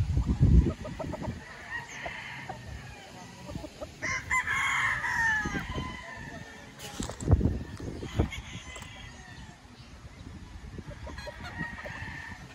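Gamefowl roosters in a cording area at a game farm crow repeatedly, some loud and near, others farther off, mixed with clucking and scattered rustling, and someone speaks briefly between calls.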